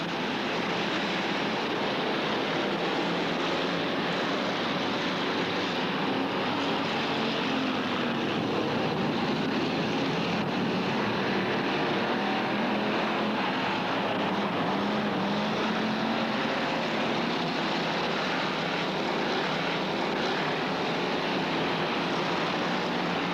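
Street stock race cars at a 1993 race in Freedom hold a dense, continuous engine roar across the whole stretch, a loud, even drone of many engines without pauses or talk.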